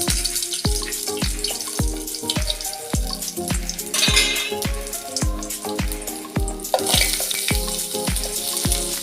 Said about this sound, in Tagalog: lagyan na natin ng mantika mga lodi, at pagkatapos ilagay na natin ang bawang at saka sibuyas, hintayin natin ang bawang sibuyas na pumula siya